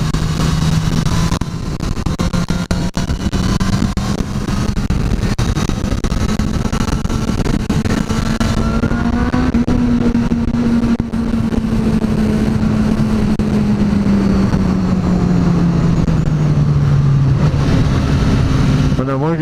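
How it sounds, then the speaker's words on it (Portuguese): A Suzuki GSX-S1000 four-cylinder motorcycle engine drones steadily while being ridden, its pitch rising and falling gently over the ride amid strong wind rush, with no clear speech. "Nossa, motor 4 cilindros muito gostoso."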